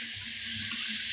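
Water saved from boiling chickpeas and peas pours into a hot pan for a Bengali chole recipe, a brief, steady rushing sizzle at close range.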